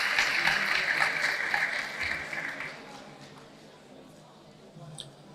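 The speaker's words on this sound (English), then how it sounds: "If I could welcome him to the stage, please, with a loud round of applause." Audience applause greeting a speaker coming on stage at a talk, loud broadband clapping for about three seconds that then thins and fades to a quiet room, with a faint voice near the end.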